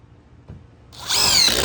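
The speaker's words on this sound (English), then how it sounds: "So now the NB1A2 has been fastened 6 times into the roof" A power drill drives a fastener through a solar mount bracket into a roof: a brief rising electric motor whir that starts after a quiet moment and stays close and fairly loud.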